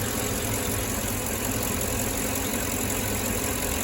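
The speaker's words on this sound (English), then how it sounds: "We're idling pretty good." A van engine idles steadily after its seized parts have been freed up. The rumble is close and constant, with a faint knocking texture and no voices.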